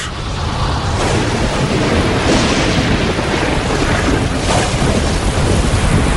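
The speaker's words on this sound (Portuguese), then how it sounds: "a chuva cai, formando poças, lagos e, eventualmente, os nossos oceanos" Heavy rain pours steadily with low rumbling thunder rolling underneath, a dense, loud, continuous wash of storm noise with no voices.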